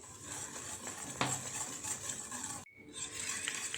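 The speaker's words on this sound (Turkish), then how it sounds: "Hepsini tencerenin içerisinde ocağa almadan karıştıracağım" A spoon stirring cocoa pudding mixture of milk and cocoa in a pot off the heat, soft continuous scraping with an occasional light clink against the metal.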